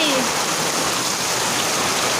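Dense, steady downpour of heavy village rain in Odisha, a loud continuous hiss with no pauses, close and enveloping.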